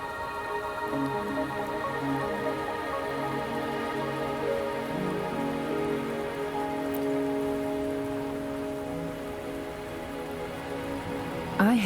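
In the video game Wuthering Waves, rain patters steadily and evenly on surfaces beneath soft sustained music, holding at a constant level from start to finish.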